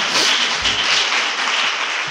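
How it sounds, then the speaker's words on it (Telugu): Church congregation clapping in a burst of applause, moderately loud and close, lasting around two seconds with no voices over it. "చప్పట్లు కొడితే స్తోత్రం చెప్తా."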